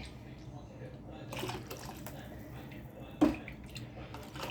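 Water poured into a cooking pot gives a low, steady splashing with one sharp knock partway through, fairly faint and close.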